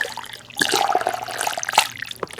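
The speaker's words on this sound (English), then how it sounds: "can you pour me some coffee?" Coffee is poured into a cup, a short liquid trickle with splashy bursts that starts after a brief quiet moment and runs close and clear, no voices.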